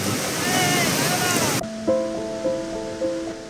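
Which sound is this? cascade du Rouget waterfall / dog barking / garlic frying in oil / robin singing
cascade du Rouget waterfall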